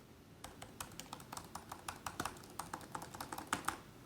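Keys on an older MacBook Pro laptop keyboard are typed in a steady run of crisp, close clicks and taps, quiet and continuous, with no voices.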